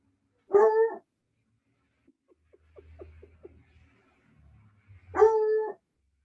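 A dog hidden nearby gives two short, loud barks several seconds apart, with soft whimpers and faint whines between them in an otherwise quiet room.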